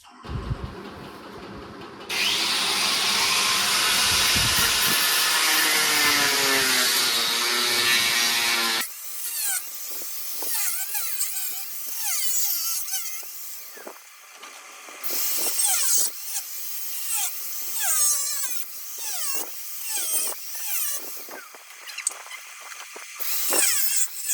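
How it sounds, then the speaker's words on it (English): A power tool cuts through the plastic bumper boxes of a Scorpio Classic rear bumper. A long, loud continuous whine of cutting is followed by intermittent scraping, rasping and clattering bursts. "I'll just cut these two boxes and place it on the solid bumper back there"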